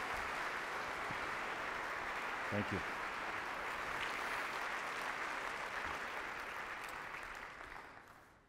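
Applause from a school-district audience for elementary, middle and high school students, a steady dense wash of clapping that fades out toward the end, with a brief spoken thanks.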